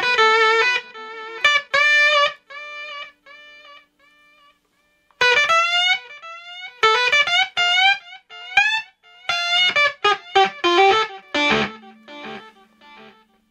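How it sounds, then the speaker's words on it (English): Electric guitar notes run through a long delay echo pedal on a pedalboard, each plucked phrase repeating in fading echoes, with clean harmonic tones and brief pauses, close and without talk. "Wow, see, long delay."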